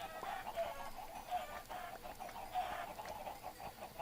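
Faint, soft clucking of chickens in a repeated, steady pattern, as from a game, with no voices present.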